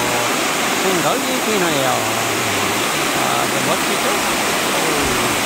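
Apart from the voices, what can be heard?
waterfall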